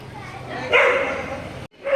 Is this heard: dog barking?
yes